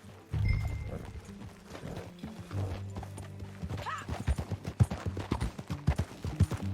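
Horse hooves clip-clopping while riding in the video game Red Dead Redemption 2: steady rhythmic hoofbeats that grow louder and sharper, with a brief neigh and ambient game sound underneath.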